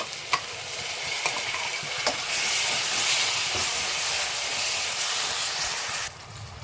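Tomato puree hitting golden fried onions with cashews for paneer tikka masala, a loud steady sizzle and hiss with a few stirring clinks, cutting off abruptly near the end.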